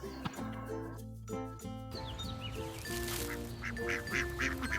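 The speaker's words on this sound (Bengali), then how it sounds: "এটা হলো ডাক মানে হাঁস" A duck quacks in a short series of nasal, honking calls that come in quick bursts, fairly close and clear.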